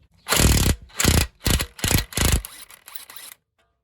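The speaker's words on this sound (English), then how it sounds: "use a size 17 hex for the castle nut and the breaker bar or an impact gun" A breaker bar loosens the castle nut on a 2014 Kia Sportage 2.0 CRDI tie rod, giving five loud, close ratcheting scrapes in a steady rhythm, followed by a softer trailing rasp and then silence.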